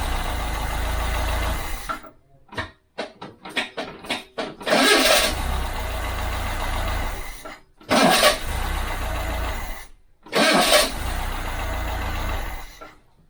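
A starter motor cranks a freshly built engine on a road-trip car build in several loud bursts, with a quick run of short clicks and stutters between them, each cranking spell steady and fast.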